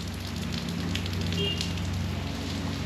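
Heavy monsoon rain pours steadily in Sindhudurg in the Konkan region, a dense and continuous close hiss with faint scattered patters and no voices.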